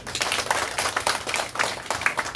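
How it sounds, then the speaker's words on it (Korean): A church congregation at a revival meeting breaks into steady applause of thank-you clapping, a dense, moderately loud patter of many hands lasting a couple of seconds. "그 하나님께 감사의 박수."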